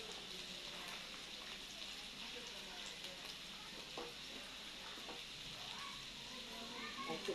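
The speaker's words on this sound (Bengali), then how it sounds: "দেখুন মাংসটা কষাচ্ছি" Meat stir-fried (kosha) in a pan, giving a steady, quiet sizzle and crackle throughout, broken by occasional soft stirring scrapes close by.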